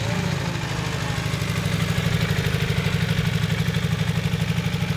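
A Honda CB250 Super Dream motorcycle, freshly rebuilt, idles steadily outdoors with a close, even low chug that pulses rhythmically throughout, no voices over it.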